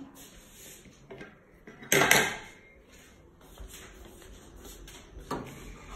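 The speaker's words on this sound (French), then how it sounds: "je vais prendre ma cuillère en bois que j'ai oublié de prendre." A wooden spoon picked up among cooking pots and utensils while preparing a vegetarian lentil dish, with one sharp metallic clatter followed by softer scattered knocks and rattles nearby.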